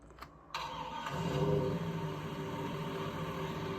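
In Farming Simulator, a click, then a tractor engine cranks and catches, settling into a steady mid-pitched idle rumble.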